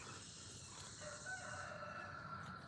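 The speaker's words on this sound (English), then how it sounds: "There's my rooster." A pet rooster crows faintly in the distance, one drawn-out call rising over a low background hum indoors, with no talk over it.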